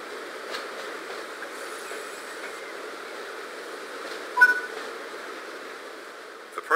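Steady rumble of a moving train in the video game Train Sim World, with faint rail hiss and a brief squeal, continuous and even, no voices.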